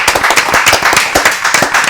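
Studio audience applause on a Portuguese TV talk program, a dense steady patter of many hands clapping continuously at close range without voices.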